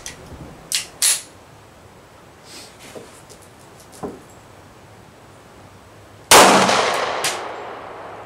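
A single loud 9mm shot cracks from a CZ-75 pistol with a 4.6-inch barrel at a chronograph test, preceded by a few small clicks and clanks, then a long ringing decay.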